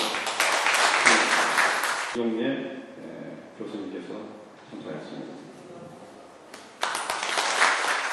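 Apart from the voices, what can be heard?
audience applause at an award ceremony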